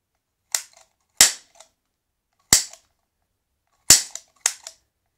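A toy cap gun fires five sharp, loud cracks in an uneven rhythm, each snapping out alone with a brief tail and some quiet between shots.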